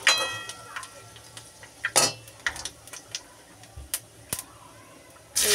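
Panch phoron spices fry in hot oil with a soft, steady sizzle, and a few sharp stirring scrapes and utensil clinks stand out, the loudest coming near the end.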